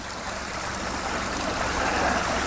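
Continuous rushing splash of a backyard rock-garden waterfall feeding a koi pond, steady and close, a bright even wash of falling water with no voices.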